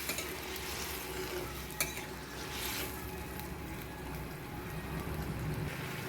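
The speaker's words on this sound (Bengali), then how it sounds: "ঝোল ফুটে গেছে, এবারে ভেজে রাখা সেই বেগুনগুলো দিয়ে দেবো, এবারে একটু নাড়িয়ে নেব।" Fried eggplant is stirred into a boiling fish curry, giving a low continuous bubbling sizzle with gentle stirring scrapes and one brief sharp knock, quiet and steady.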